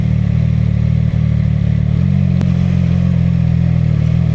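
A CFMOTO 675SS motorcycle runs with a steady, loud, low droning engine note that steps up slightly partway through under throttle, with no talking over it.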